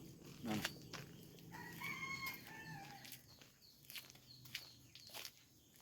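Chickens on a hilly Malaysian farm, with a rooster crowing once near the start and soft clucks and calls after it, mixed with footsteps and quiet background noise.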